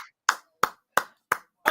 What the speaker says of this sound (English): I'm clapping them